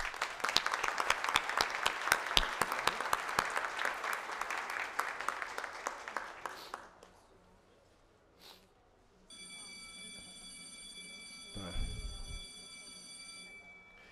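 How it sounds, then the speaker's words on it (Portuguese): Applause from the audience at a formal solemn session honouring women with medals: loud, steady clapping from many hands for about seven seconds, then it fades out, leaving a quiet room with a faint electronic tone and a low thump. "Essas mulheres merecem todos os nossos aplausos."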